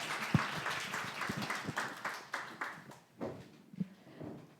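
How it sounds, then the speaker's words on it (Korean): An audience at a worship concert applauds, a burst of scattered hand claps that thins out and fades toward the end, heard from within the hall. "다시 한번 큰 박수 부탁드릴게요"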